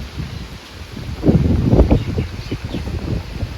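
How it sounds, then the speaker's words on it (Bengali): A steady, broadband rush of wind and rain during a night storm, swelling into a louder gust midway before settling back to a constant roar. "দেখো আকাশটার কি অবস্থা প্রচন্ড বৃষ্টি হচ্ছে"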